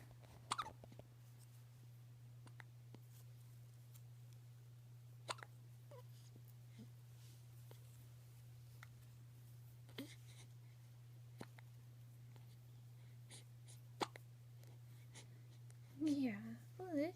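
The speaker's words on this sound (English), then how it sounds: "do you have the hiccups?" Faint, sparse hiccups from a person come as brief soft catches spread over about seventeen seconds, over a steady low electrical hum, with a short burst of vocal sound near the end.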